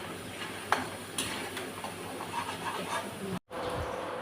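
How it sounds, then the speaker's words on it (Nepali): Soybeans frying in oil in the same pan used for peanuts, a steady crackling sizzle with occasional stirring knocks and a brief dropout near the end. "यहाँ चाहिँ मैले भटमास फ्राई गर्दैछु है।"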